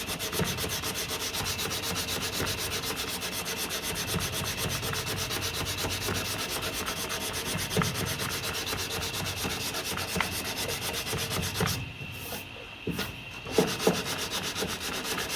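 Steady, close sanding with 240 grit paper on a repaired door sill of a Mk2 Ford Escort, a continuous abrasive rubbing with brief pauses and small knocks near the end, no voices.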